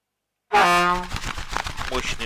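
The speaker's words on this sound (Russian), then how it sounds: "Мощный гудок." A YaAZ-214 truck's air horn in the Spintires video game sounds one loud, close blast of about half a second, followed by rumbling engine noise.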